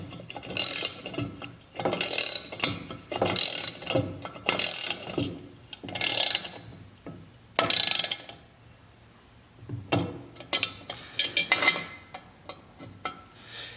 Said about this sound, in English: Then you put the 4mm Allen head onto the bolt.